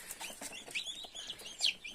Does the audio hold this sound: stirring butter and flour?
no